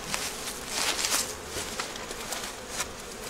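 Bees buzzing around an open hive, a dense, steady hum of many insects close by with faint flickers of wings, alone without voices.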